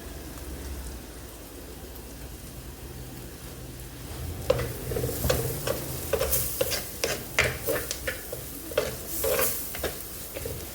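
Curry leaves go into hot oil in a pan: a quiet simmer breaks into sharp crackling and spitting pops, with scraping stirs mixed in.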